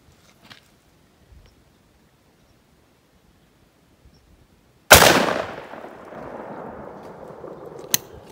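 A 10 gauge shotgun with a 23-inch barrel fires a single loud blast of a 2-ounce 7.5-shot turkey load at cans outdoors in cold Kentucky wind; the sharp report is followed by a long rumbling tail, then one small click.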